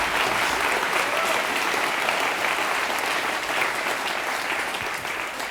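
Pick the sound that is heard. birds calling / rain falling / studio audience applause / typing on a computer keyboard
studio audience applause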